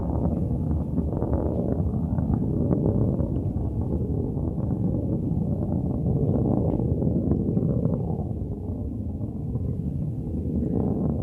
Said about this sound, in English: we can hear that BE-3 engine just roaring through the sky